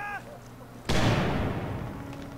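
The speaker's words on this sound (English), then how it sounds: "Grenade going off right outside." A video game grenade detonates nearby with a sudden loud boom and a long rumbling decay, following a moment of quieter game background.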